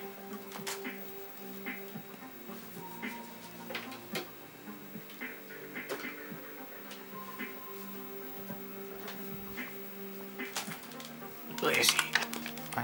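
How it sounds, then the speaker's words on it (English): Scattered clicks of typing on a USB computer keyboard, used as a controller for a PS2 game, come in irregular bursts under a steady hum and quiet game sounds, with a louder rattling flurry near the end. "I'm using my keyboard now"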